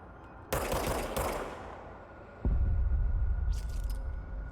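Gunfire from a supernatural weapon in the action video game Control: a loud burst around half a second in, then a deep heavy boom at two and a half seconds with a rumbling tail, no talk.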